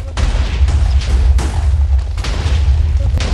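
A series of heavy booming TNT explosions in a video game, each a sharp crack rolling into a deep, continuous rumble, loud and close.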